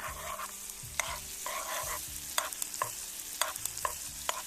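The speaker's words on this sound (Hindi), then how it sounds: "अभी प्याज, लहसुन और टमाटर फ्राई हो रहा है।" Onion, garlic and tomato frying for chicken in a pan over a wood fire at a campsite, a soft steady sizzle with repeated scraping stirs and occasional clinks, fairly quiet with no talk.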